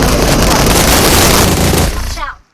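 Dense, continuous gunfire in the mobile battle-royale game PUBG Mobile, loud and sustained before cutting off abruptly near the end, with no talk over it.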